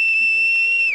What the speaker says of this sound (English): Stop that goddamn whistling